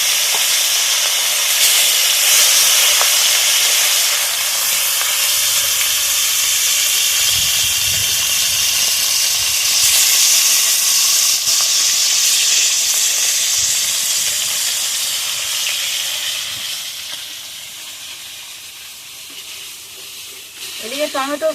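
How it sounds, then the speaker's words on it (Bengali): Fish fries in hot mustard oil in a wok, a continuous loud sizzle and hiss with steady spattering that eases slightly toward the end, with a short burst of stirring at the close. "এবার আমি মাছগুলো ভেজে নেবো"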